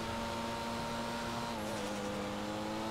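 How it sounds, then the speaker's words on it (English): Car drifting in GTA5 Online, a Christmas-themed stunt race: a steady engine drone with tonal whine holds throughout, shifting pitch midway as the tires slide, loud and continuous with no talk. "That was a sick drift."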